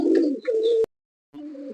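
Pakistani high-flyer pigeons coo nearby in two short, loud, throaty bursts separated by a brief silence.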